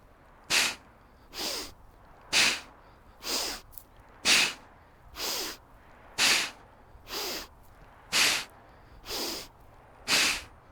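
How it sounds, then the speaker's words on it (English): Heavy, forceful breaths from someone swinging a heavy club in a single-arm rotational exercise, eleven evenly spaced loud exhalations with an inhale between, near and alone. "Inhale at the bottom, exhale at the top."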